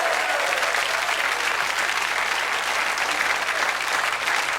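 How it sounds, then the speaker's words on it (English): A studio audience at a televised national IQ test applauds itself, producing a steady, dense wash of clapping that stays loud and even throughout. "Give yourselves a round of applause, everyone."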